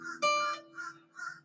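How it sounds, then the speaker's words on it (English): Crows or similar birds caw outdoors in a few separate rough calls, one louder burst among fainter ones, heard without speech. "Shut up, birds."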